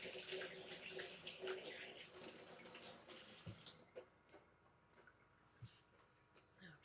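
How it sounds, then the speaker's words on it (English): Running tap water pours over hands being rinsed at a kitchen sink while cooking meatloaf, a steady broadband rush for about four seconds before the flow stops, leaving faint drips and small clatters. "I'm going to rinse my hands off again."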